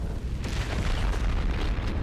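Explosions in the Skibidi Wars video game: a dense, continuous rumble of deep booms and blasts that overlap for the whole stretch, loud and with no talking over it.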